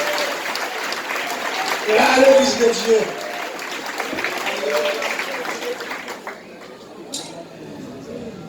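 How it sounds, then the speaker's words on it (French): Church congregation clapping in praise of Jesus, a steady crowd of hands beating under a voice in French that carries over it, with the clapping thinning out toward the end. "Applaudis Jésus, applaudis Jésus, applaudis Jésus"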